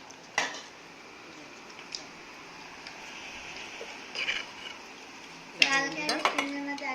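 Handi mutton being served from a clay pot onto a plate, with a few faint scattered clinks of a serving spoon against the pot and a busier burst of cutlery and dish clatter near the end.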